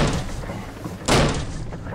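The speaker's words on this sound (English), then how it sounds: "Kick open the door." Door kicked open as an audio drama sound effect: a constant rushing, rumbling background, then one loud, sudden slamming thud followed by a brief rattling settle, with no talk.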